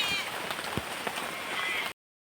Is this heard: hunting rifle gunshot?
no